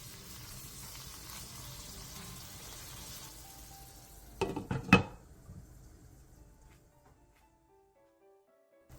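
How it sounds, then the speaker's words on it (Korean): A Korean side dish braising in a garlicky sauce in a pan: a soft, steady bubbling sizzle, then a brief clatter of a utensil stirring against the pot before the sound fades to near quiet. "골고루 졸여줄 수 있게 졸이는 중간에 한 번씩 뒤적여주세요"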